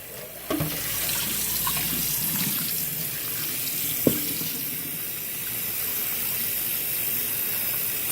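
Cold tap water runs steadily into a kitchen sink, rinsing dried-on flour, dough or batter out of a dish, a continuous close hiss with a couple of brief clunks of the dish against the basin.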